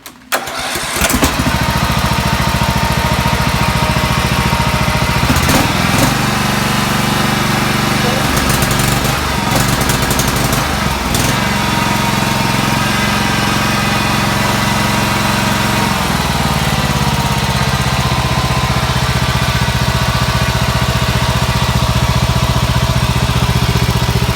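A Toro TimeCutter riding mower with a swapped engine and a freshly adjusted choke cranks, catches and settles into a loud, steady running drone up close, its pitch wavering briefly in the first seconds before holding even.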